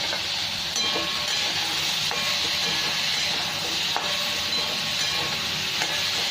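Pointed gourd, potato, tomato and green chilli fry in a pan with a steady, loud sizzle and hiss throughout, punctuated by a few faint clinks of stirring.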